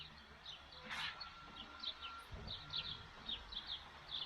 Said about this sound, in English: As usual, like all the birds chirping out.